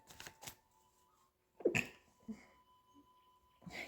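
One quiet, close sneeze cuts through a hushed room, followed by faint breathing and the soft shuffle of tarot cards.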